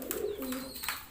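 A pigeon gives a short, soft coo close by, near pigeon chicks kept in a coop, with no other sounds around it.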